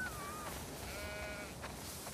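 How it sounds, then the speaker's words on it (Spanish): Sheep bleating in the video game The Last of Us Part II, two drawn-out bleats over a steady, faint background hiss with no talk. "tenemos demasiadas ovejas"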